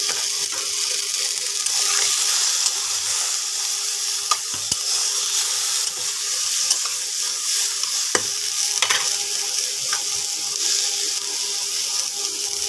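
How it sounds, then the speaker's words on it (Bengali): Carrots, drumstick pods and papaya fry with turmeric and salt for a Bengali shukto, giving a steady broadband sizzle for the whole stretch with a few sharp clicks of a stirring spoon against the pan. "একটু নুন হলুদ দিয়ে ভাজা ভাজা করে ভাজবো, কিন্তু বেশি না, অল্প একটু ভাজবো।"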